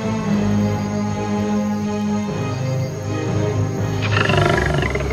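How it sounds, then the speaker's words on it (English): A lion emerging from woods gives a loud, deep, sustained roar that swells and rumbles for several seconds, close and alone without any talking. "Then there is a roar. A lion walks out of the woods majestically."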